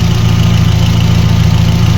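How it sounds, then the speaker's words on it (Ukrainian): A VAZ 21099 car's petrol engine idles steadily up close, a loud, even low-pitched rumble with a regular pulsing beat and no voices. "Ось так працює наш двигун"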